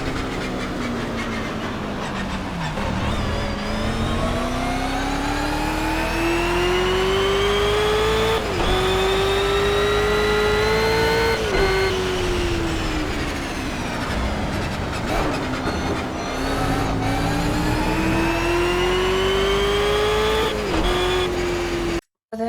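Racing car engines from the video game GRID Legends roar loudly, climbing and dropping in pitch through repeated gear shifts, continuous and close.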